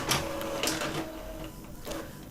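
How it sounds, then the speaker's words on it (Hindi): A desktop printer feeding out pages makes bursts of mechanical clatter and whirring, with three or four distinct surges over a steady motor hum, close and moderately loud, no voices. "जितना भी पेज आपने प्रिंट किया होगा एक एक करके सारे पेज जो है प्रिंट निकल करके आएंगे।"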